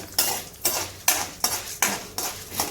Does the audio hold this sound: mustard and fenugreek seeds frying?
yes